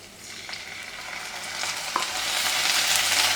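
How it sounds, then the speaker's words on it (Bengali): A curry of fried potatoes and onion paste is stirred and sautéed in a frying pan, a steady close sizzle with scraping stir strokes that grows louder toward the end. "মশলা দিয়ে তরকারিটা কষানো হচ্ছে"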